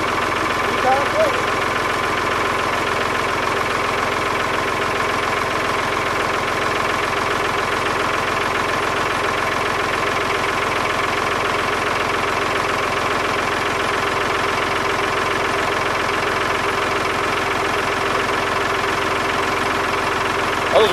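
A Ford 3910 tractor's diesel engine idles after a cold start, a steady, loud, close rumble with a constant even knock that runs unchanged for the whole stretch.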